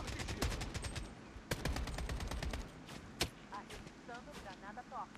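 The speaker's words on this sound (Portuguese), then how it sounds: "Estão atirando em mim!" Rapid bursts of video game gunfire from enemies, a dense volley of sharp shots in the first half and then scattered single cracks, with voice chatter and radio-like callouts underneath.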